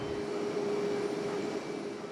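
Inside a passenger airliner flying from China into Australia, the engines give a steady, even roar with a faint tonal hum. It is continuous and unbroken, with no voices.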